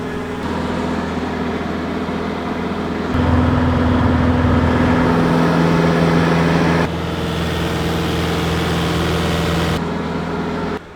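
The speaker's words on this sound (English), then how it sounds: "That is a flameless heater. That giant thing produces heat without exhaust." A large flameless heater runs steadily at close range, a loud continuous low engine-like hum and whir with shifting tonal bands, with no talk.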